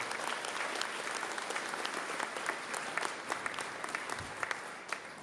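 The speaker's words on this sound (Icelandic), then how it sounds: "ég ætlaði náttúrulega að gefa henni eitt gott klapp" An audience at a national accordion enthusiasts' gathering in Ísafjörður, 2017, claps for an accordion performer: a sustained, dense round of applause from a crowd, moderately quiet and steady throughout.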